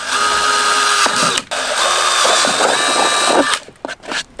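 Power drill boring holes to mount an AuxBeam RGB switch panel in a Toyota 4Runner, a steady close whine that runs nearly continuously with brief pauses and stops near the end.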